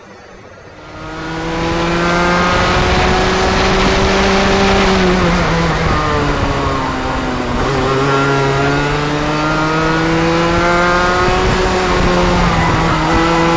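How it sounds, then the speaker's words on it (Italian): A 125cc two-stroke racing kart screams at high revs through a corner while its tires squeal loudly, close to the microphone. The engine note dips and climbs again as the tires scrub continuously under the load. "Le gomme ce lo fanno capire chiaramente, infatti sentite il rumore che... vuol dire che le sto stressando molto"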